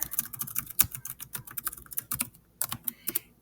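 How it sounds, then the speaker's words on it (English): Rapid irregular clicking of keys on a computer keyboard as a chat message is typed, close and clear, with a brief pause near the end before a few final keystrokes; no voices. "So you can just simply type in your chat box here"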